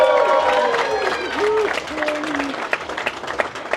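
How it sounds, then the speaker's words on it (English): A crowd at the Goodwood Festival of Speed applauds two car builders, with clapping mixed with whoops and cheering voices near the start, then thinning into scattered claps. "Come on, give him another round of applause."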